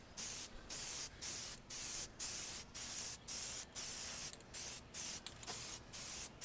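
An aerosol spray can lays a light guide coat over leather car seats during a repair, about a dozen short, loud, close hissing bursts in a quick regular rhythm, separated by brief pauses.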